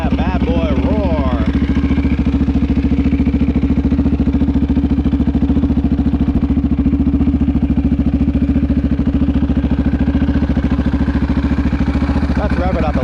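A 2006 KTM 625 LC4 single-cylinder motorcycle engine, just push-started, runs steadily with a low, throbbing chug, loud and close, holding an even idle the whole time.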